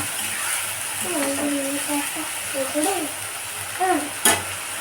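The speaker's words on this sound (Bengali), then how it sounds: "এবার মশলাটা ভালো করে কষিয়ে নেব" Masala with ginger-garlic paste sizzles in a pan while being stirred, a steady frying hiss under a speaking voice, with a few scraping strokes and a sharp clink near the end.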